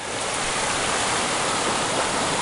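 A water pump runs a high banker for gold prospecting beside a creek, giving a loud, constant rushing wash of water and motor with no voices.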